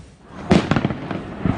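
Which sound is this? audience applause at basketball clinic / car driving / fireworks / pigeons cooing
fireworks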